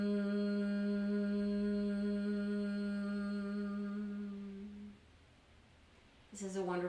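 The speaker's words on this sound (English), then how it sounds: "a honeybee sound in the throat riding on the exhale" A human voice makes the low buzzing honeybee hum of Brahmari Pranayam breathing on a long exhale. The steady, even drone holds for about five seconds, breaks off into breathy quiet, then a new hum starts at the end.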